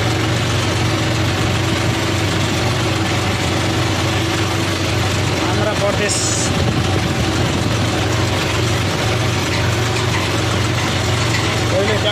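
A tractor engine labours steadily up a long, steep three-kilometre climb on a rough road with big stones, its low droning rumble continuous and close while someone speaks briefly over it.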